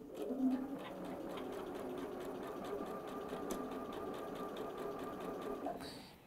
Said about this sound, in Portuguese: vou fazer essa costura com ponto reto